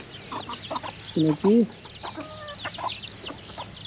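Wild jungle fowl forage nearby, giving a burst of loud, close clucks midway over a bed of softer chirps and calls, while a person speaks briefly.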